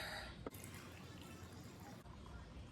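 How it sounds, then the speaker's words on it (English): Pickle brine with dill seasoning pours into a half-gallon mason jar in a kitchen, a steady liquid splash running for about two seconds, close and fairly quiet. "let's try to pour this without getting it everywhere."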